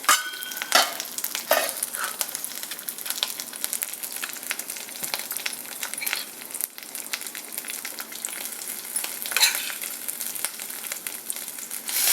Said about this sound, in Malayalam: ഇനി നമുക്ക് വേവിച്ച് വെച്ചിരിക്കുന്ന ചക്കക്കുരു മുരിങ്ങയ്ക്ക തോരൻ അത് ചേർത്ത് കൊടുക്കാം.